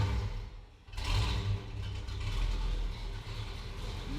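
A rebuilt, fire-damaged Ford Mustang engine running through its exhaust: a low, throaty rumble that dips briefly, then swells as the engine is revved and settles into a steady, loud drone.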